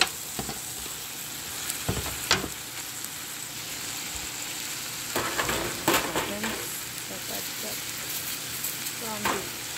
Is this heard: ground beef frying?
yes